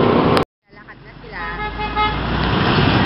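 On a tricycle ride to a market, a sharp horn toot sounds at the start, then a brief silence, and traffic and engine noise build up steadily with voices talking.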